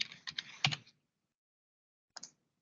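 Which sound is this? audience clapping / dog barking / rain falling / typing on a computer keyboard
typing on a computer keyboard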